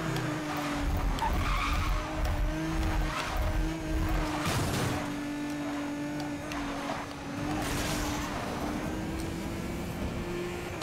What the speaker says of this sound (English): time to drift now